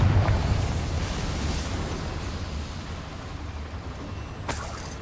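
The Confringo fire spell explodes in Hogwarts Legacy: a heavy boom at the start decays into a long, rumbling roar, with a sharp burst near the end.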